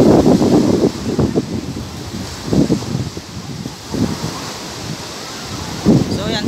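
Ocean surf at a surfing beach in Zambales rolls in repeated broken crashes over a constant windy wash, with wind buffeting the microphone.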